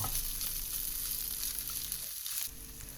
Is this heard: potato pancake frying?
yes